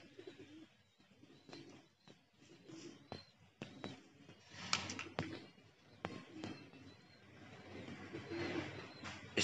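Flying pigeons coo softly in low repeated bursts, mixed with wing flutters and scattered bird calls at a moderate distance on a foggy day.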